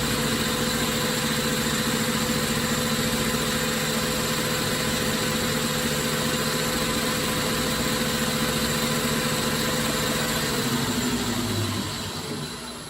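A lathe bores a bearing pocket in a spinning top, giving a steady humming whir with a faint cutting hiss that runs unbroken and then winds down at the end, with no talk.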